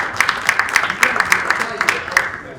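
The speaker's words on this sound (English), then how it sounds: "So a big round of applause for you." Applause from an audience at a PTK college honor society induction ceremony, a fairly thin round of rhythmic clapping from a modest crowd, steady for a few seconds with a voice over it.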